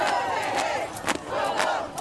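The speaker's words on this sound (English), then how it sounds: "The crowd taking over the park and street, chanting" A large protest crowd in a downtown San Antonio park and street chants together in a steady, rhythmic roar, loud and continuous with regular pulses.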